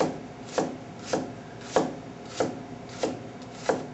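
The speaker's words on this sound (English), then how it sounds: "I'm going to use the tip, and again, not going completely through the onion." A chef knife slicing into an onion on a cutting board, six or seven evenly spaced crisp cuts about every half second, close and clear with no voices.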